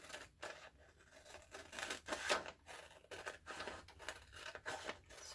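Scissors snip through fabric pattern pieces for a crossover clutch, with repeated quiet cuts and scrapes in an uneven rhythm, close and soft, with no voices.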